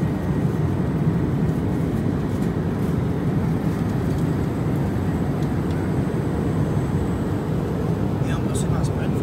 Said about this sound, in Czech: že se nacházíme v letadle společnosti United při cestě do Washingtonu